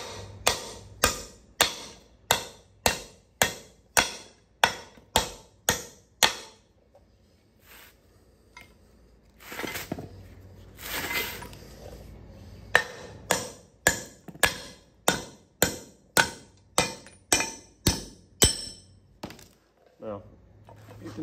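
A hammer knocks wheel studs out of a brake rotor on a 7.3 OBS truck. Rapid, evenly spaced metallic blows land close, about a dozen in a run, then a pause with handling noise, then another steady volley.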